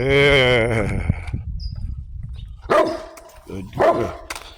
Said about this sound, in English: Bella the dog